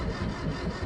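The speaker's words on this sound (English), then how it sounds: "I guess I'll check that the engine's going to start" A sailboat's inboard engine runs during a Mediterranean night sail, heard as a brief, steady mid-pitched mechanical rumble close by, with no talking.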